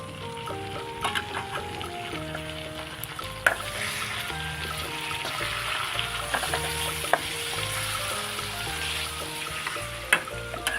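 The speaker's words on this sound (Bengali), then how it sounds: "আমি এবার রান্না করছি বন্ধুরা, কত জোরে জোরে আওয়াজ হচ্ছে ভাজায়।" Chicken and onion fry loudly in a pan for biryani, a dense crackling sizzle with stirring scrapes, metal clinks from tongs, and a faint tonal hum underneath.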